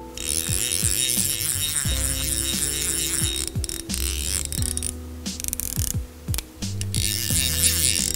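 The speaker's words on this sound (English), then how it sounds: "It's got sort of that trout reel sound that we're looking for classically." A Sage Domain fly reel's ratchet clicks in fast rattling runs as line is pulled, close and clear, with brief pauses between pulls.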